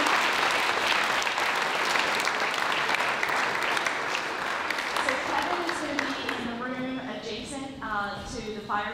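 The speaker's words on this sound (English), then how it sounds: "let's give him one more round of applause" An audience applauds after a campus talk, steady clapping filling the first half and then thinning as a speaker's voice comes in over the fading applause.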